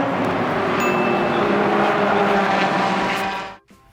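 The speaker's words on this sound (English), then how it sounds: "all you hear is the honk coming from the intake" A Lemons endurance race car at Barber in 2020 gives a loud, continuous, droning intake honk close to the listener, holding steady for over three seconds before cutting off abruptly.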